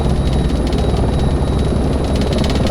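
Helicopter in a desktop flight simulator game picking up airspeed: a steady, loud, close rotor chop with an even pulsing beat and engine whine, with no talking.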